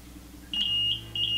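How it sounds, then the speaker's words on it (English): An infusion pump's completion alarm beeps high and electronic in short repeated pulses over a steady low mechanical hum. "So any second now we should alarm and complete."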